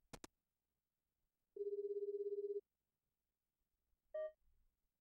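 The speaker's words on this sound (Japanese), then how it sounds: "数回のコールの後、兄さんが電話口に出た。" An in-game phone rings in the Japanese horror game Hayarigami 2: a sharp click, then a single electronic ring tone lasting about a second, and a brief beep-like tone later, all clean and isolated against silence.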